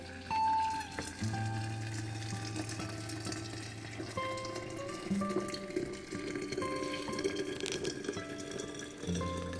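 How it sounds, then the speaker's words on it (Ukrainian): Two liters of freshly boiled water are poured into a large glass bottle for assorted fruit compote in a home kitchen, a steady pour and gurgle lasting several seconds over a low hum, with no talking. "Беру один бутиль в руки ставлю на стіл і заливаю 2 літри кипятку."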